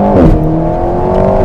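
An Alpine A110 S in sport mode accelerating hard down a straight, a loud, close engine roar with rising harmonic pitch through first gear.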